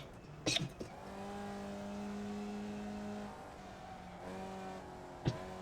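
Race car engine in the iRacing sim, a steady droning note held at constant throttle with rising harmonics, briefly dipping as the throttle lifts, with a couple of sharp clicks near the start and end.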